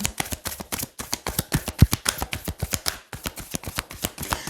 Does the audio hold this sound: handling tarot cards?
yes